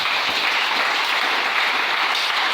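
A church congregation applauds the Lord with a dense, steady wash of clapping from many hands that sounds close and full throughout, with no voices standing out.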